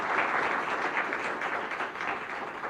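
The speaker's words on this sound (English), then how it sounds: "Let's give her another round of applause." An audience at a tech summit applauds a speaker, a full, steady round of clapping that holds at even loudness throughout with no voices on top.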